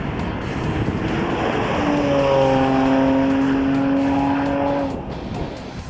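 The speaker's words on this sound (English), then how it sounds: "let's not forget about that howling supercharged V6 engine" A loud 2016 Jaguar F-Pace supercharged V6 engine roars steadily under broad noise, rising in pitch with a sustained howl through the middle before easing off near the end.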